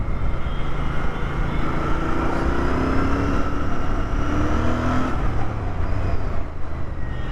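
A Royal Enfield Bear 650 motorcycle engine revs and pulls past 4000 RPM, a loud, steady droning roar with rising and falling tones, heard up close over continuous wind rush.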